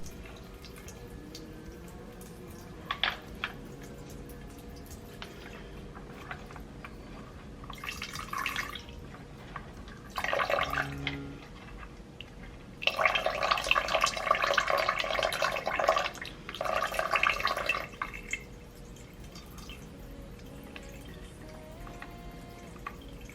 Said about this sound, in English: I'm moving around the larger rocks to adjust the sound of the waterfall